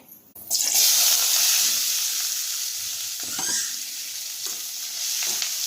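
White onion sautés in a pan, giving a steady, fairly loud sizzle with intermittent stirring scrapes throughout, no voices present.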